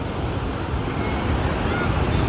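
Surf and wind at Tondaligan Beach in Dagupan, a steady broad roar of breaking waves with wind buffeting the microphone, continuous and fairly close throughout, no talk heard.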